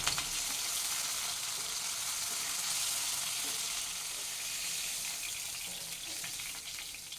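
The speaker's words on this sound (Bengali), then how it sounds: "এটাকে হাই ফ্লেমে রেখে বেশ উপরের কোটিংটাকে ভেজে নিতে হবে" Bombay duck fish fritters fry in hot oil over a high flame, giving a steady broadband sizzle that stays even and fairly loud throughout, with no talking.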